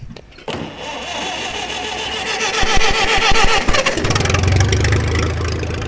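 Small engine on a farm starting up after gas is added to the tank: a cranking whir catches into a loud, rough running idle that stays steady and close, with no talk.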